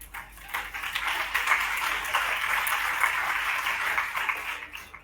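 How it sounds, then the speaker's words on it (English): Seminar audience in a hall applauds steadily for about five seconds, a dense, even wash of many hands clapping at moderate volume, heard from within the crowd. "give her applause for actually asking that question"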